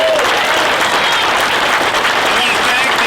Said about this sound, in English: Let's hear it for Tom Murray